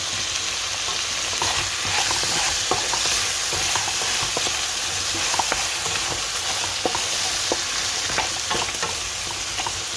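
Onions sautéing in hot oil for a Tamil crab curry, with a steady close sizzle and scattered crackles and spatters throughout, alone without talk.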